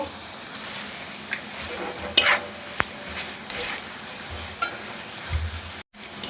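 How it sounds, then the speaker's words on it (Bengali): Cumin and coriander powder frying in a pan gives a steady hiss broken by spatula stirs and a few metallic clinks against the pan, without any voices. "খুব ভালোভাবে কষিয়ে নিয়েছি"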